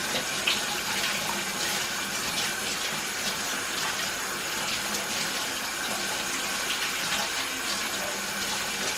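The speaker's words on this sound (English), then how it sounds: "we're gonna wash this carrots off right quick" Carrots are rinsed under a running kitchen tap, the water pouring in a steady, close hiss that continues unbroken with no voices.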